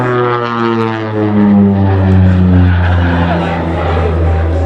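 An OV-10 Bronco twin-turboprop flies a display at the Duxford air show, its propeller drone loud and close with a rising, shifting engine pitch as it passes.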